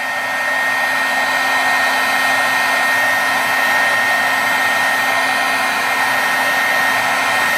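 A heat tool blows a steady, loud whooshing hum while melting embossing powder on silver foil, continuous and unbroken throughout with no talking.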